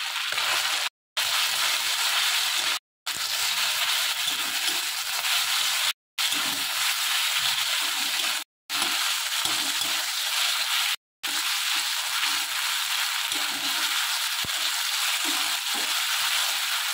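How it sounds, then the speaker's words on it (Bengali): Pepper, flour, vinegar and sauce marinated pieces fry in hot oil in a pan, a steady loud sizzle and crackle that runs continuously, broken only by a few brief cuts to silence. "এটা এখন আমি ভেজে নেব।"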